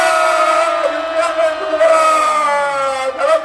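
A rally crowd at a street protest lets out a loud, sustained collective shout for about three seconds, many voices blending into a continuous roar with a slight swell and fade near the end.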